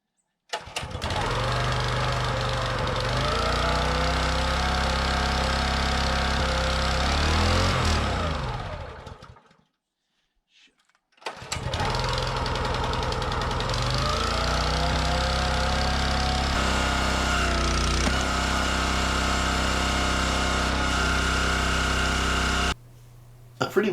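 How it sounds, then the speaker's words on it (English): Small gas engine on a wood splitter runs at a steady, loud drone while wood is split, not at full throttle. It briefly bogs down and cuts out for a moment under load, then picks back up. "Let's get to splitting some wood."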